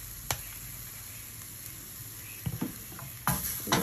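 Mushrooms and spinach in a pan being stirred over a steady hiss, with a few scraping strokes of the spatula near the end, close and fairly quiet, no talk.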